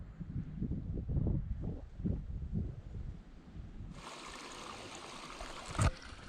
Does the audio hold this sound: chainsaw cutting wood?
no